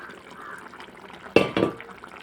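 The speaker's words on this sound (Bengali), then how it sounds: "এখন আমি ভেজে রাখা বেগুনগুলোকে দিয়ে দেবো" Fried eggplant pieces tipped into a pan of cooking potatoes and vegetables land with two quick, loud splatting sizzles over a low background simmer.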